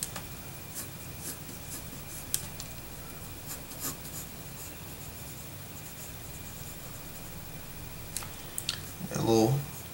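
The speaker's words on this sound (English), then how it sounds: "We're going to draw like a little square." A pencil sketches the body of the cartoon Pokémon Vanillite, drawing a small square and shapes on paper. Close, soft scratchy strokes come in short intermittent bursts, with a brief duller bump near the end.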